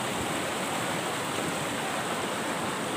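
River water flowing steadily over stones in a rural province, a dense, continuous rushing wash close to the microphone with no voices heard.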